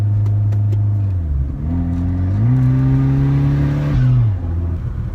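A Saab 9-3 Turbo with an automatic gearbox revs its engine and shifts through gears while driving, the pitch climbing, dropping and climbing again in steps, loud and close with no talking.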